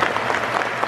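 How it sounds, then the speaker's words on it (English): Football crowd applauding at Peterborough United's win over Lincoln City, a dense close clatter of many hands with rhythmic swells, no clear voices on top. "Clap for Fergie's mum."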